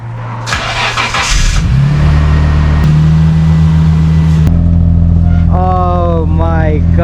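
Nissan Skyline R32 GTR engine running loud and steady from inside the car on a drive, a sustained low drone with shifts in pitch, while voices speak over it in the latter half.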